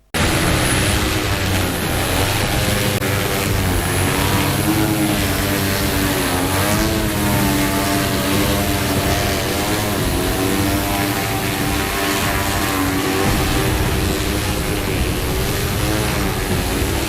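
Small homemade drones with propellers in flight, giving a steady, loud buzzing whir that holds without a break for the full length, with no talking.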